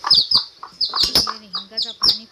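Chicks cheep in rapid, high, close bursts beside their hen on a home farm, with a few short clucks mixed in and no talk.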